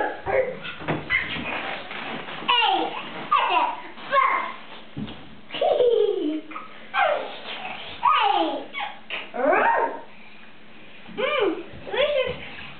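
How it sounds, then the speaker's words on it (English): A big dog whimpers, yips and makes whining, rising cries at a toddler's birthday gathering, mixed with a small child's babbling and an adult talking nearby. "look at that big doggy"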